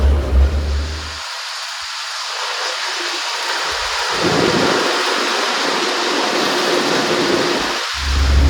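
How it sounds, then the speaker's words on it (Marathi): Rain begins during a KSRTC bus journey on the single-lane NH-66 from Panjim to Karwar, heard as a broad steady wash of drops mixed with low rumbling road and engine noise inside the moving bus. "थोडं का होईना पण पावसाला भाई सुरुवात झाली."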